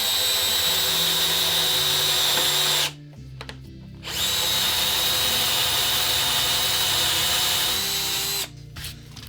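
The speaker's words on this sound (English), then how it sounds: "So now I'm going to drill 3 holes here" A power drill whines loudly and steadily drilling holes in a guitar body, stops briefly, then runs again for a long stretch before cutting off near the end.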